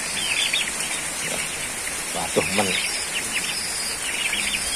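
Young turkey poults chirp in quick high bursts, with a brief flutter of flapping wings, over a constant rain-like hiss; a voice speaks briefly in the middle.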